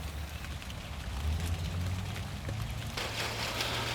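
Rain is falling outdoors around a garden where a tree has just been planted. It makes a steady broadband patter with a low rumble underneath, growing a little brighter toward the end, and no one speaks.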